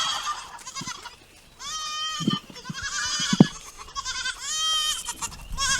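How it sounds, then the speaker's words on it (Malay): A goat bleats several times, wavering nasal cries repeated in quick succession, close by, with a few soft knocks in between. "Kambing."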